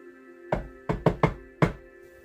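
Five sharp knocks on a door in a set pattern: one rap, a short pause, three quick raps, then a final single rap, fairly close over a low steady hum.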